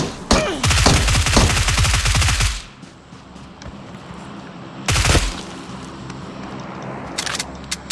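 Gunfire from a distant firefight in a video game crackles in two rapid bursts of automatic shots, the first long and dense, the second shorter, with a faint hiss and scattered thin pops between them.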